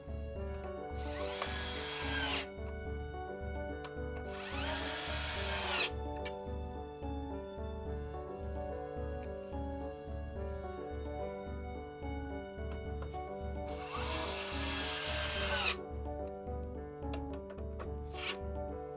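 A power tool drives screws while a cooler is fitted to an overheating computer, with three bursts of whirring drilling, each lasting a second or two, over a steady pulsing machine hum.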